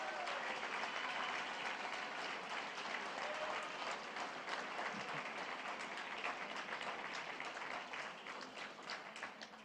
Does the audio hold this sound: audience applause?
yes